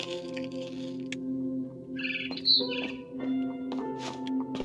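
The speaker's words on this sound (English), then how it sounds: "Then I heard chirping outside my window." Birds chirp outside a window in the video game What Remains of Edith Finch, a short run of high chirps in the middle over a steady humming ambient background.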